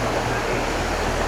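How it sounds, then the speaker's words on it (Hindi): Waterfall on the Kedarnath trek in the mountains, a steady broadband rush of falling water heard close and continuous, with no talk. "झरने की लिमिट नहीं है, झरने बहुत है यहाँ पे"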